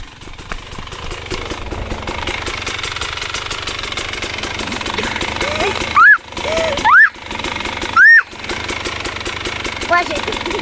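A KTM 50 SX dirt bike engine drones steadily as it is ridden, with three short rising whoops from a voice nearby and the engine running on under them.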